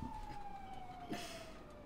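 Police sirens wail in the Grand Theft Auto V game, a thin, steady siren tone heard at a distance under the game's background noise, with a short burst of louder noise partway through.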